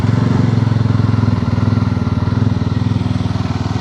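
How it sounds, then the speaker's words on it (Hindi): A single-cylinder Yezdi Roadster motorcycle with a dual barrel silencer exhaust idling close by, a loud, even low throb that runs steadily with no talking. "चलिए अब साउंड सुनते हैं यज़दी रोडस्टर का। इसमें भी डुअल बैरल साइलेंसर ही दिया गया है आपको,"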